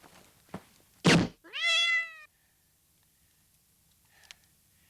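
A cat gives one clear, drawn-out meow preceded by a sharp thunk, in a deleted scene from the comedy film A Fish Called Wanda, followed by near silence and a faint click.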